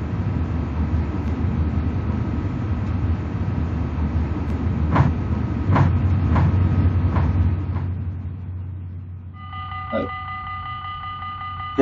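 A train in the Metrosimulator video game rolls along with a low, steady rumble and a few rhythmic clunks over the rails, then a multi-tone chime or horn sounds near the end.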